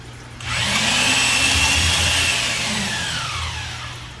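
A power-driven cylinder hone working a bore of a 440 engine block for a 1969 Dodge Charger, a loud, close whirring grind that starts abruptly, holds steady, then slowly tapers off.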